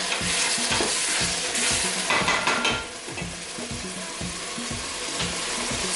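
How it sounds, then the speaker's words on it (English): Tomatoes, onions and ginger sautéing in a pan for vegetarian sinigang, a steady loud sizzle with rhythmic stirring scrapes repeating throughout, no talk over it. "while we're sauteing the tomatoes, onions, and ginger"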